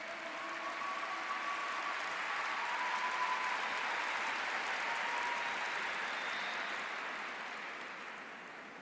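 A large congregation at a religious camp gathering applauds together, a broad, even roar of clapping that swells and holds steady before gradually tapering off toward the end.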